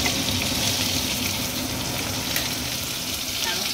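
Pieces of aar fish fry in oil over a lowered gas flame, giving a dense, continuous spluttering sizzle that stays loud and close, with a kitchen chimney humming underneath.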